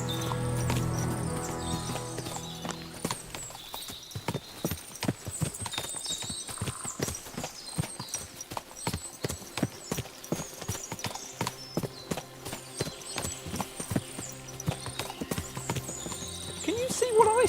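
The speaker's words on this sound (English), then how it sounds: "What a lot of horses!" Many horses clip-clopping on hard ground, a dense irregular patter of hooves close by, with a whinny early on and people talking over it.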